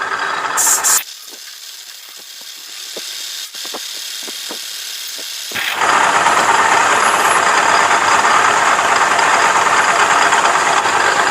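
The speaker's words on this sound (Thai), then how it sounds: "กำลังเจาะ" A drilling machine bores into the side of a metal workpiece held in a tilted dividing head. A quiet stretch with faint ticks gives way to a loud, steady grinding roar that continues to the end.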